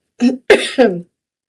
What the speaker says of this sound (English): I have a lingering cough that just won't go away.